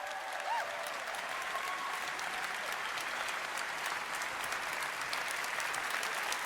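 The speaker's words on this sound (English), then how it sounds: "I want one more huge roaring applause for every single cosplayer we have on stage today" A convention crowd gives sustained, steady applause for cosplayers on stage, a dense wash of many clapping hands with faint cheering mixed in, continuing at even volume throughout.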